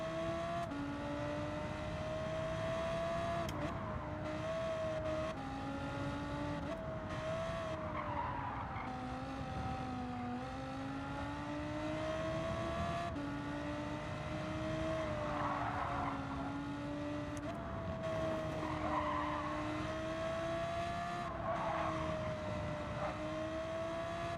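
Tires skid and squeal on a race car in Gran Turismo 7, with the engine droning and rising and falling under repeated slides. The sound is steady and fairly close.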